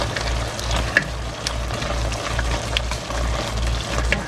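Bacon frying in a pan while okra and tomatoes are being cooked: a steady, close sizzle with scattered crackles and pops, heard alone without talk.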